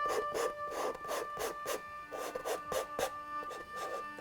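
A knife scraping and spreading material in a steady series of short, rasping strokes, each close and distinct, roughly two or three per second.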